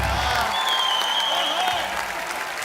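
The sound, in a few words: studio audience applause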